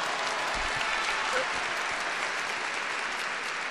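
A crowd applauding the Pope during his pastoral visit to Pompeii and Naples, a steady, even roar of many clapping hands filling the whole stretch without pause.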